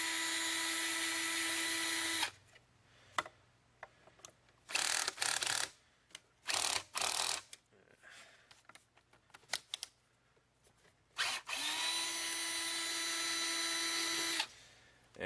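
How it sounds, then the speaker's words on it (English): A power screwdriver backs screws out of the side housings of a Kirby Generation vacuum cleaner, with loud whining bursts at start and end and short intermittent spins between, close up. "simply remove the two screws on the front there"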